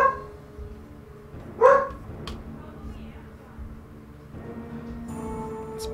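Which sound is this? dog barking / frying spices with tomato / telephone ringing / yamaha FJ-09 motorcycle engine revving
dog barking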